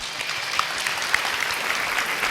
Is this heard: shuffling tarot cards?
no